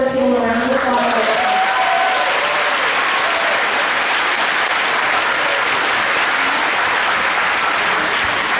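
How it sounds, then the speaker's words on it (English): A high school graduation crowd breaks into sustained applause, a loud, dense roar of many hands clapping that holds steady for over eight seconds, with a voice briefly heard at the very start. "So let's give them a round of applause."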